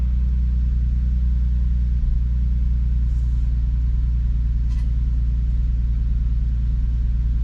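Nissan 370Z engine idling with a possible misfire, a loud, steady, close low rumble that runs throughout with slight irregular pulsing.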